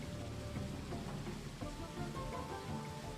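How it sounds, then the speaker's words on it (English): Steady rain patters as a sound effect in the PS2 game Neopets: The Darkest Faerie, a dense continuous hiss of drops at moderate level with no talking. "I want to reduce the rain, but I've apparently got it in the wrong scene."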